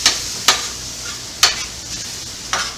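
Hoisin-glazed stir-fry sizzles in a pan while a utensil scrapes and stirs, giving four sharp scraping strokes over a soft continuous hiss.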